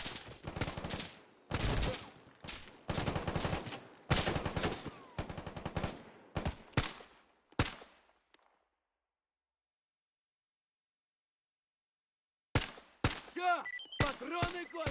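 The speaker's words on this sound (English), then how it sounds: "as soon as I engage I'll be met with a hail of gunfire" Bursts of rapid gunfire in the video game S.T.A.L.K.E.R. GAMMA crackle in several loud volleys, then silence for a few seconds before more shots break out.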